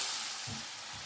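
Salted tomatoes sizzle in a hot pan, giving a brief, steady frying hiss up close with a faint crackle.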